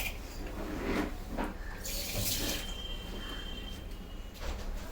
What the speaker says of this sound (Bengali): আর একটু জল দিয়ে দিই।